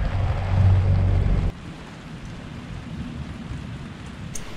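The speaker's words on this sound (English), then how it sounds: "The rain has started in front of us now." Rain on a boat during the rainy season in Panama, a heavy low roar that drops suddenly to a steady softer patter of rainfall with a dull rumbling undertone.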